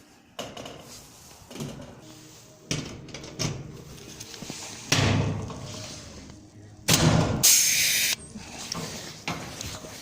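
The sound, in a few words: pneumatic rivet gun setting rivets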